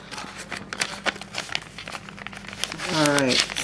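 Bubble wrap packing around a mailed item crinkles and crackles up close in dense, irregular bursts, followed at the end by a brief vocal sound.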